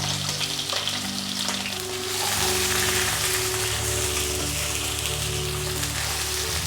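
Steady hissing sizzle of onion going into a hot pan while cooking prawn biryani, a dense crackling fry that swells slightly midway and continues without talk.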